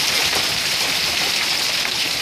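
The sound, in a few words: heavy rain and hail falling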